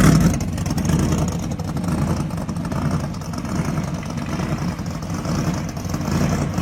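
Blower-supercharged muscle street car rumbles loudly with a few blips of revving, a rough low engine roar swelling and easing in waves at a car show.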